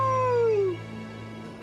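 A wolf gives a single tonal, falling call that fades out, followed by a short quiet stretch and a sharp, abrupt burst at the very end, close and fairly loud.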